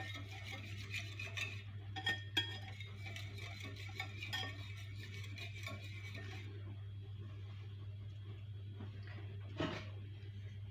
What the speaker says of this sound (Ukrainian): борошна сюди і вінчиком це все розмішаю для того, щоб борошно трішечки тут роз розійшлося